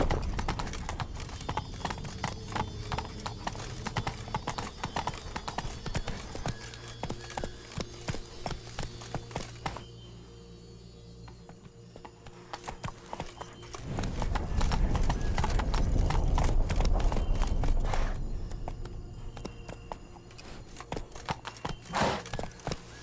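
Horse's hooves clip-clop steadily at a trot in The Witcher 3: Blood and Wine, with an occasional whinny, a louder stretch of ambient game sound in the middle and brief moments of talk.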